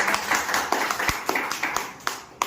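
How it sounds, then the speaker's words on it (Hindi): A seminar audience gives a round of clapping: scattered, moderately loud hand claps with sharp individual strikes, thinning out toward the end. "एक बार जोरदार तालियां"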